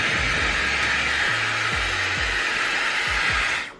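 A Dyson Airwrap multistyler blows a loud, steady rush of air while rough drying hair, close by, with a few faint bumps before it winds down at the end.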